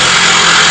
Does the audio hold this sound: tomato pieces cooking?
no